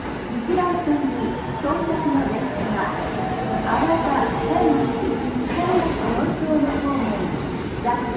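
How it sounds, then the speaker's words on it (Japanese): A Kintetsu 7000 series train bound for Gakken Nara-Tomigaoka pulls into an Osaka Metro station, its rolling rumble and rising electric motor whine filling the platform at close range while someone talks over it. "はい、というわけで早速列車やってきましたね。 この学研なら富ヶ丘行き、車両がこれ近鉄の7000系車両ですね。"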